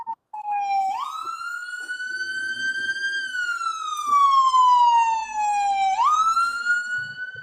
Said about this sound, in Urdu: پیچھے سے سائرن کی آواز بڑی لاؤڈ آ رہی ہے